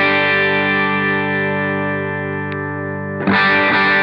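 An electric guitar, a Stratocaster on pickup position three with the highs rolled off, rings out a sustained chord alone, then a fresh strum near the end.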